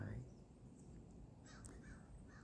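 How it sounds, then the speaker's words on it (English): A crow caws a few times outdoors, the calls moderately distant and somewhat faint over a low steady background hum, with no talk. "Crow stopped by."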